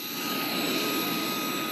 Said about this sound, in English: the CH-47 Chinook is one of the bigger birds you'll see in the sky